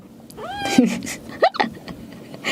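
A pet cat being carried home meows close by, giving two or three rising, plaintive calls over about two seconds with faint background noise.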